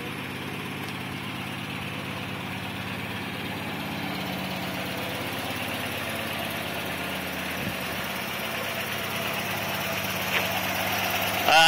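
A 1964 Dodge Dart engine idles with a steady, slightly rough rumble and faint knocking, close and continuous, with no talking over it.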